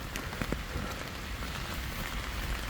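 Steady heavy rain falls across an arboretum park during an autumn storm, a dense continuous hiss of drops on surfaces with scattered louder patters, no voices.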